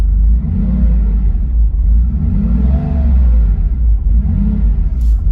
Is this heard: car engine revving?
yes